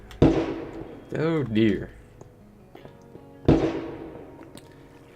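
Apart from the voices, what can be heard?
gunshots heard outside during a Minecraft stream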